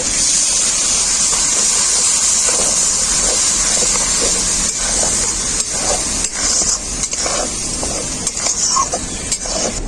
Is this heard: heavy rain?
no